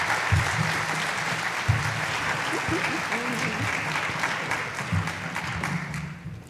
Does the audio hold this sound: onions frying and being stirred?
no